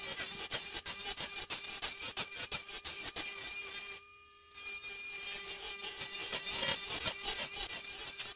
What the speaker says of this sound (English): nothing beats the mini toy nail drill.